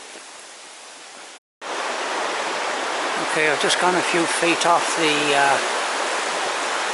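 A swollen stream rushes below a waterfall in Cwm Cynfal after heavy rain, a steady broadband roar with a brief dropout, while someone speaks over the flowing water.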